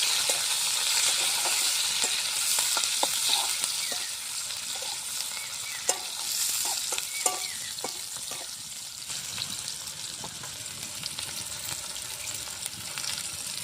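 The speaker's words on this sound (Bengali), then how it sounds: "পেঁয়াজ কুচিটা একটু ভাজা ভাজা করবো" Chopped onion sizzles and fries in a pan during home village cooking for achari paneer, with a steady loud hiss and repeated scraping clicks of stirring, no voices.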